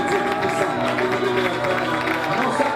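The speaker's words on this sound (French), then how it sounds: "Est-ce que tu peux donner des acclamations à ce Dieu qui a parlé?" A church congregation cheers and applauds in a steady, dense wash of clapping and shouts that lasts the whole stretch. A voice speaks over the noise.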